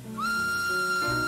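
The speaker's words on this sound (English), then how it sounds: "The steam engine whistled." A steam engine whistle in a children's TV show sounds one long, steady, high blast that rises sharply at the start and holds loud and clear over a low background rumble.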